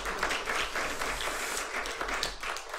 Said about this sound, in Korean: 우리 현악기 연주해 주신 분들에게도 여러분 감사의 박수 하겠습니다.